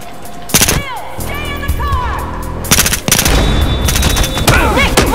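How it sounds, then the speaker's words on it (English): Rapid bursts of gunfire crack repeatedly over a rumbling soundscape in the video game Battlefield Hardline, with shouted voices and electronic effects in between. "reporting gunfire downtown"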